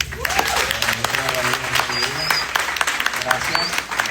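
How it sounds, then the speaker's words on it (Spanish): An audience applauds at the close of a talk on fashion manufacturing, with dense, steady clapping throughout and voices speaking over it. "un fuerte aplauso."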